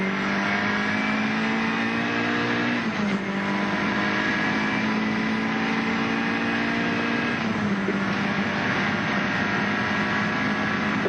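Nissan Turbo race car engine heard from inside the cockpit at Bathurst in 1983, a loud, continuous droning roar at high revs with two brief dips as it shifts or lifts, then climbs again.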